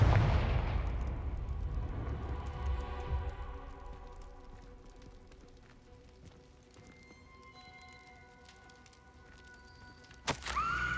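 A Confringo fire spell blast in the Hogwarts Legacy video game, a loud booming burst at the start that rumbles and fades over several seconds, followed by quieter ringing ambience and a sharp magical crack near the end.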